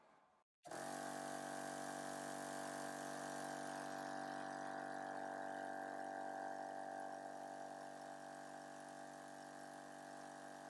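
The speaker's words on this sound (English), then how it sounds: "so then we'll turn the compressor on" A 12V air compressor, powered through a 110V AC to 12V DC 50A converter, switches on after a brief click and then runs with a loud, steady, even drone until the end.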